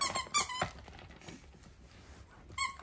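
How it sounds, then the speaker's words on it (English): Standard poodles working a squeaky toy produce several quick, sharp squeaks in bursts at the start and again near the end, fairly close, with quieter pauses between and no voices. "Dark green really likes that squeaky"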